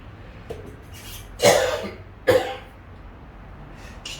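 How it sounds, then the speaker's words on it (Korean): A person coughs in a quiet room, two sharp harsh coughs with a few fainter throat sounds around them. "기침이 끊어지진 않아요"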